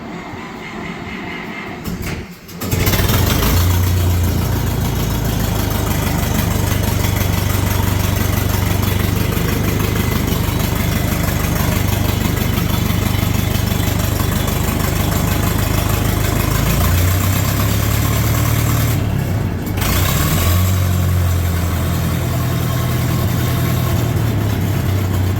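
A Case 730 LP Case-o-matic tractor engine runs steadily after starting, a loud, close, low rumbling idle that holds for over twenty seconds, briefly dipping once, with no talk.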